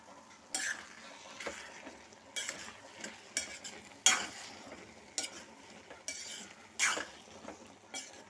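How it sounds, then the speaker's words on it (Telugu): Paneer mixed vegetable curry stirred in a pan, with spaced scraping strokes of a spoon against the pan over a soft continuous sizzle, near and without talk. "ఒక్క పది నిమిషాలు అయిందండి మళ్ళీ ఒకసారి కలిపేసుకుంటున్నాను"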